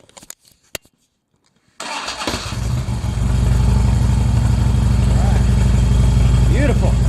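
A 2009 Harley-Davidson Road King motorcycle engine cranks after a short near-silent pause, then catches and settles into a loud, steady rumbling idle close by.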